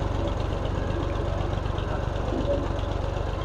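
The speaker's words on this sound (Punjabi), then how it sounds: "ਟੂਬਲ ਚੱਲਦਾ ਪਿਆ" A tube well pump engine runs nearby with a steady, rhythmic low chugging thump, continuous and unchanging throughout, with no talk.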